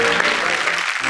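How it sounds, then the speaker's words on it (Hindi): An audience at a Hindi comic poetry gathering bursts into a short round of clapping, a dense, close patter that fills the whole moment. "स्वयं के लिए एक बार जोरदार ताली"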